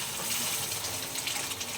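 Hot jaggery water is poured steadily into roasted rajgira flour, giving a continuous close splashing, gushing stream of liquid with soft sizzling underneath.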